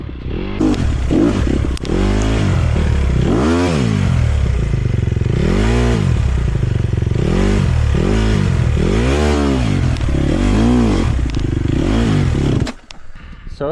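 An enduro motorcycle climbs a switchback with heavy clutch work, the engine loud and close, revving up and down in repeated surges, with clatter from the bike, before cutting off near the end.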